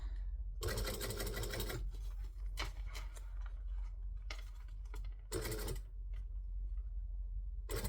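A domestic sewing machine runs in several short bursts of stitching, close and fairly loud, with quiet pauses between runs.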